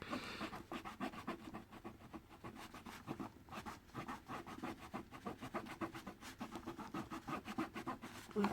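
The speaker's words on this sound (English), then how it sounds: "So I'll just give the pins a buff up." Repeated rubbing strokes of cleaning the contact pins on a 1998 Game Boy cartridge circuit board, a steady close scratchy back-and-forth rhythm with no talking.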